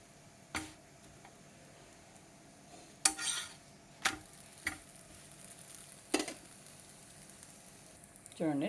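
Chapati cooking in a hot pan, with a faint steady sizzle broken by a handful of sharp taps and scrapes from a turner as the flatbread is pressed and turned.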